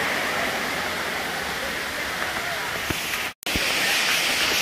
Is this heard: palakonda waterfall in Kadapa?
yes